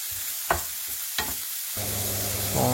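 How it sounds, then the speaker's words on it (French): Vegetables sauté in a hot pan, a soft sizzle broken by a few scraping stirs of a utensil, faint and close. "je fais revenir un petit peu"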